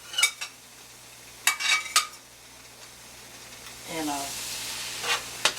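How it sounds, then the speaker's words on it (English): Onions sauté in hot olive oil in a home kitchen for lasagna, a soft sizzle beneath intermittent clinks and scrapes of a utensil on the pan, with a brief spoken word. "while these onions are sauteing before I put my meat off up in it"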